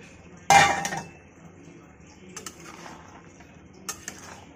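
Chickpeas tipped into spiced masala in a pan, a sharp clatter and clink of metal and glass followed by a few light taps and scrapes, with quiet gaps in between.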